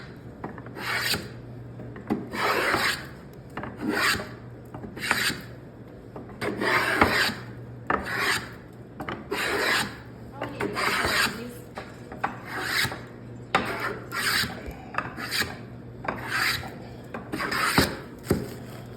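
A wooden chair leg is hand-cut to a taper with steady, repeated rasping strokes, roughly a dozen or more in an even back-and-forth rhythm, close and fairly loud, with a faint low hum underneath and no talking.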